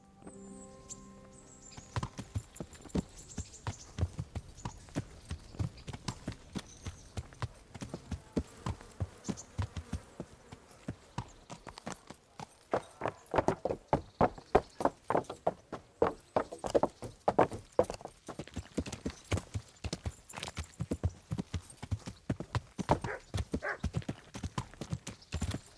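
Horse hooves clip-clop steadily in Kingdom Come: Deliverance, with a quiet stretch before a brisk, even gait of close, crisp strikes sets in and runs throughout.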